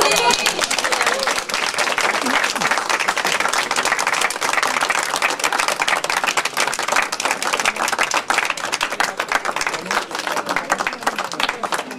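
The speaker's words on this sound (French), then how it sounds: "Et on peut s'applaudir." Outdoors on a terrace after a poetry event, adults and children applaud themselves in a lively, dense round of clapping that runs steadily throughout, with voices mixed in among the claps.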